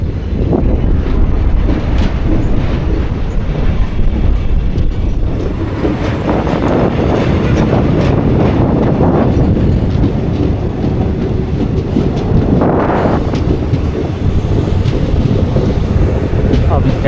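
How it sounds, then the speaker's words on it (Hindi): A diesel locomotive pulls a passenger train through the Western Ghats on the Bangalore to Mangalore line, its steady loud rumble and rolling wheel noise building as it picks up speed, with a brief swell near the end. "ऐसा लग रहा है यहाँ से हमारी डीजल लोकोमोटिव जो हमारी चेंज हुई है वो रफ्तार पकड़ रही है"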